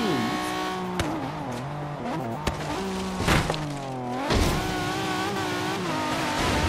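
A car engine in Forza Horizon 3 revs and climbs through the gears, its tone rising and dropping with shifts and a couple of sharp knocks, loud and close with little else around.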